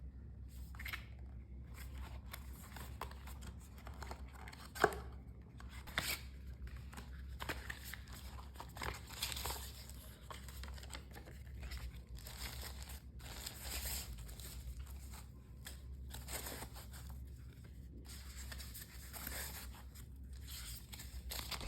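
Packaging of an ESR protective case for an S22 Ultra being opened, with faint, sparse rustles, scrapes and a few small clicks over quiet room tone, no talking.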